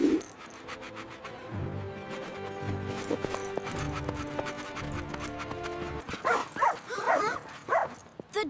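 A dog barks in a short burst of yips and barks toward the end, close and fairly loud, after a stretch of tonal background sound.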